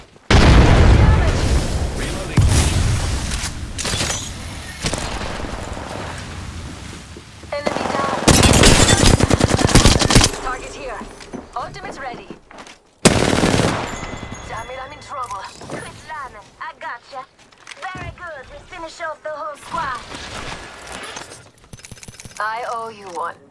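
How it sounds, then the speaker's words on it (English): Gunfire and a grenade explosion in Apex Legends, with machine-gun bursts, heavy booms and sharp pops. Loud stretches alternate with quieter gaps, and character voice lines cut in between the shots. "Grenade."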